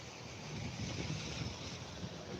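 Steady wind during Hurricane Ian roars without a break through trees near a filling creek, a continuous broad rush mixed with microphone buffeting.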